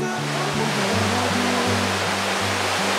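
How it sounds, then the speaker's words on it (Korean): Yongchu Falls, a waterfall in South Korea, roars with a dense, steady rush of falling water, loud and unbroken throughout, with a low droning hum underneath. "가슴속까지 시원하게 해주는 용추 폭포도 만나게 됩니다."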